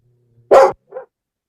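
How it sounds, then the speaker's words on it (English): A dog gives one loud, sharp bark followed by a shorter, softer bark, both close, with silence around them. "My dog just lost her mind"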